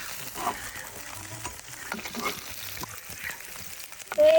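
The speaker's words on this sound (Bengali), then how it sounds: "এবার আমি একটু ভালোভাবে নেড়ে নেব।" Chopped onion and green chili frying in oil in a pan, stirred with a utensil, giving a soft steady sizzle with intermittent scraping and clinks, moderately quiet throughout.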